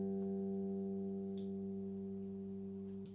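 A steady, sustained note from a G&L L2000 electric bass with its active circuitry switched on rings with a rich, bright tone, alone and without talk, with a couple of faint clicks partway through.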